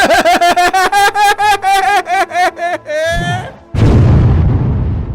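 Cartoon exploding pies go off in a rapid string of popping bursts, mixed with a tonal stuttering voice-like effect, ending in a sharp whoosh and one big loud blast that trails off.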